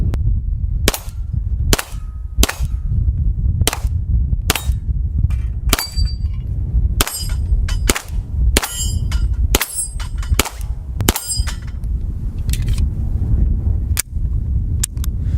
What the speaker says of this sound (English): And I said we get a little bit closer just so we could ring some steel